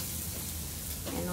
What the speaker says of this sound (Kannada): ಬ್ರೇಕ್ಫಾಸ್ಟ್ಗೆ ಅಂತ ಹೇಳಿಬಿಟ್ಟು 2 ಬ್ರೆಡ್ಡನ್ನ ಟೋಸ್ಟ್ ಮಾಡ್ಕೊತಿದ್ದೀನಿ